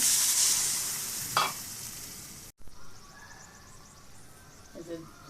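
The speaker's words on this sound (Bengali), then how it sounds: "এখন আমি গ্রেভির জন্য জল দিয়ে দেব" Water poured into a hot pan of oil for gravy over fried potatoes and pointed gourd sizzles into a loud, bright hiss that fades, with a short burst partway through, then cuts to quieter, softer bubbling.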